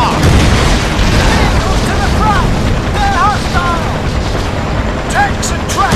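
Dense, continuous rumble of explosions and gunfire from a Battlefield 2 Modern Combat battle on PS2, loud throughout with short chirping radio-like blips over the din.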